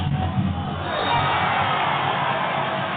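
Coventry home crowd at a varsity men's basketball game cheers and whoops, a dense, boisterous roar that swells after the first second and stays loud and sustained, heard as if from a live arena broadcast.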